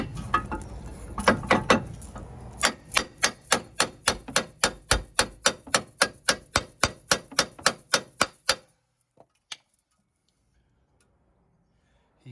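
A copper bar struck repeatedly against the ball joint rivets of a Mercedes Vito in a workshop, about twenty sharp metallic hits in an even rhythm, close and clear, ending with a couple of isolated taps.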